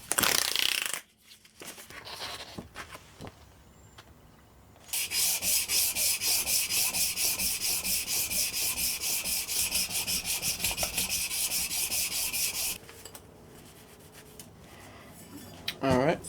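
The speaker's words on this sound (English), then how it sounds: "I decided to go straight when sanding because of the flange." Sandpaper of 320 grit rasps in straight strokes along a handmade knife blade: a quiet start with scattered scrapes, then a sustained close scratchy rubbing for about eight seconds before it stops.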